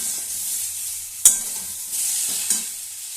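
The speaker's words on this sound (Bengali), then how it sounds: "কেটে রাখা টমেটো মিডিয়াম সাইজের টমেটো আমি দিয়ে দিয়েছি" Chopped medium tomatoes drop into a hissing pan of small prawns with aubergine and potato, the bright sizzle broken by two quick stirring scrapes.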